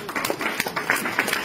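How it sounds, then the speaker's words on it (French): A small audience at a Cannes&Connect event gives light, scattered clapping, with sparse individual claps that never build into full applause. "Bravo, un petit applaudissement,"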